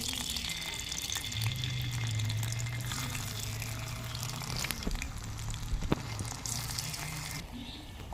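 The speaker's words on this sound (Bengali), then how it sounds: "এই তেল গরম হয়ে গেছে, এবার আমি আলুগুলো দিয়ে দিতেছি।" Potato slices drop into hot oil in a wok and fry with a steady, close sizzle that holds throughout, with a few light clinks near the end.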